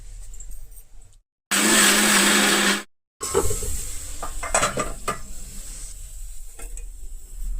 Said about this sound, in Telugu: వేసేసి దీన్ని కూడా మిక్సీ పట్టేసుకుందాం